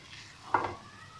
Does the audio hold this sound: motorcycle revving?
no